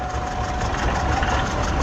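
An American Tractor Company ATCM3 crawler tractor runs steadily during an outdoor thresheree parade, its engine a loud, continuous low rumble with a broad roar and no talking.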